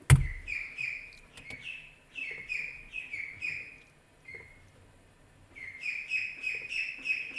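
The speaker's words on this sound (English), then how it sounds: "I'm going to take a minute and throw these birds some grub and some water, get them to quiet down" Young birds chirp insistently while waiting for food, bursts of high repeated peeps in clusters with brief pauses, close and fairly loud, with no talk.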